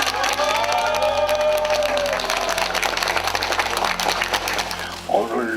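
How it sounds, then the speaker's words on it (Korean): A crowd gathered outside the Supreme Court in Korea claps and cheers in support after a court victory. The applause is dense and sustained, mixed with whoops and voices, and someone speaks near the end. "오늘 일단 전면 승소 하신 것에 대해서 우리 힘찬 박수로 응원해 드립니다."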